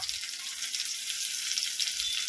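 Tomatoes going into a pan of sizzling onion, ginger and garlic for a brinjal and field bean thokku, a steady close, bright frying hiss that runs unbroken throughout with no talking.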